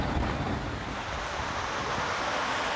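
Ocean surf rolls in at Montego Bay, Jamaica, a loud steady wash of breaking water mixed with gusty wind buffeting the microphone, continuous with no voices.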